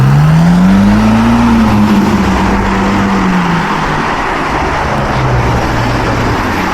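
A loud car revs past on a city street in Inverness, its engine note rising and then falling as it passes close by, over a background of traffic noise.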